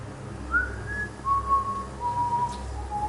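A person whistles a slow, wavering tune of long held notes, faint and distant over a low rumbling background.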